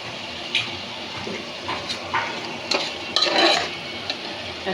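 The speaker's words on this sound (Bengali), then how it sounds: "মশলাটা মোটামুটি কষানো হয়ে গেছে।" Spice masala for a prawn and winter vegetable dish sizzles in a pan while being stirred, with soft scraping and clinking of a utensil against metal in short bursts over a steady frying hiss.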